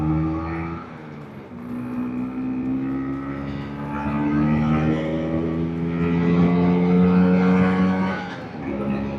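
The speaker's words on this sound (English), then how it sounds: "But this Vespa goes, man, it really goes." A vintage Vespa scooter engine drones steadily during a ride, its buzzing two-stroke note rising and falling with throttle and gear changes, close and continuous.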